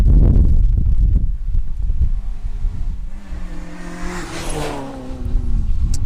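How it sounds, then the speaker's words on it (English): Hillman Avenger historic rally car driving past on a forest stage, its engine note rising and fading as it goes by, loud and near with heavy wind buffeting the microphone. "And this is car 73 for the Avenger of David McLeod, Eamon Boyle."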